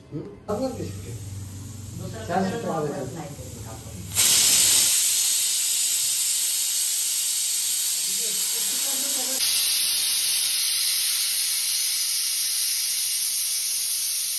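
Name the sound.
pressure cooker whistle releasing steam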